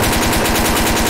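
A Tommy gun in Garry's Mod fires in a rapid, continuous burst, loud and close, with no talk over it.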